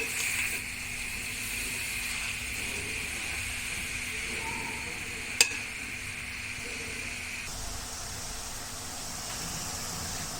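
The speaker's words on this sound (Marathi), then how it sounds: "तुपामध्ये छान परतून घेऊयात हा खीस." Grated carrot frying in ghee for carrot halwa: a soft, steady sizzle and hiss throughout, with one sharp click of a utensil partway through, quiet and close.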